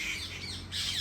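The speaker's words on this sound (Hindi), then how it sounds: "ये देखो वहाँ पे कर रहे हैं लड़ाइयाँ हो रही हैं इनकी पक्षियों की कुछ" Birds squawking as they fight, harsh overlapping calls repeated in a fast, loud, continuous burst close by at a farmhouse.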